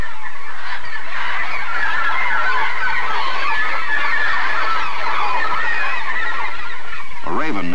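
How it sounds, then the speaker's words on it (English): A panicked seabird colony of murres on a Newfoundland cliff as a raven approaches, a dense continuous roar of many harsh calls, loud and unbroken throughout, with a brief rising cry near the end. "Suddenly, there is panic among the birds."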